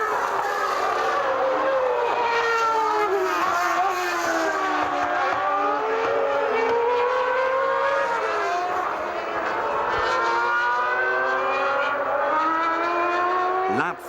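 Formula One cars from the 1994 season, including Schumacher's Benetton chasing Hill, scream past in a sustained, loud high-pitched engine wail with shifting pitch as they race on, with a commentator talking over it throughout.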